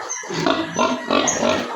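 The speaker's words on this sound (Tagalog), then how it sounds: "yung mga baboy. Merong bagong anak." Pigs in a spacious piggery grunt and snort in a quick run of close, rough calls that overlap in short bursts.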